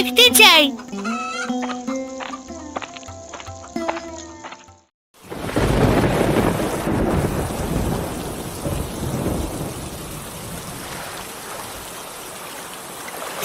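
Heavy rain and rolling thunder in an animated cartoon storm on a river, a loud continuous roar with deep rumbles that breaks in suddenly after a brief silence, following a short stretch of rooster crowing and clucking.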